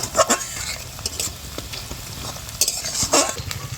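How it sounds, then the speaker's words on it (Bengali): Finely chopped large onion frying in hot oil, a steady sizzle broken by stirring scrapes and a few sharp clinks of a spatula against the pan, close and fairly loud with no talking. "পেঁয়াজটা একটু লাল লাল করে ভেজে নেব।"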